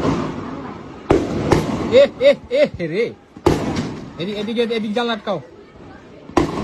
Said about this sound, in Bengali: গলির ভিতরে গুলি করতেছে গলির ভিতরে